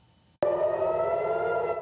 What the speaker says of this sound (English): Another night of sirens in Tel Aviv as this war enters its third week.